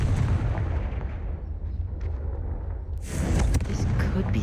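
A Confringo spell cast in the Hogwarts Legacy video game, a rumbling blast that fades away and is followed by a second sharp burst, with no voices over it.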